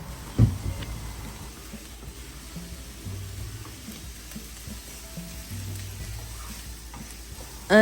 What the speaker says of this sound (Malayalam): ഇനി ആ ഒരു ഓയിലിക്ക് തന്നെ നമ്മൾ ചോപ്പ് ചെയ്ത് വെച്ചിട്ടുള്ള സവാള ഇട്ട് കൊടുക്കുക